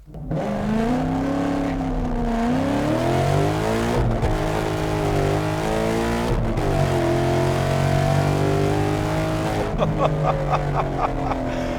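A 2018 Ford Mustang GT V8 with bolt-on upgrades and a loud Corsa exhaust roars steadily, its engine note rising and falling as it revs, with a crackle of sharper pops near the end.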